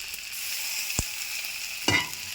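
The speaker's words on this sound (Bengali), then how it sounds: "মশলাটাকে কষে নেব" Onion paste with cumin, turmeric and chili powder fries in oil, giving a steady hiss of sizzling with a couple of sharp spoon knocks against the pan as the spice mix is stirred.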